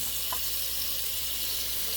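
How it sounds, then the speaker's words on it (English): Cold tap water running steadily into a moka pot, a continuous close hiss and splash with no breaks. "we're going to go ahead and fill it up with cold water"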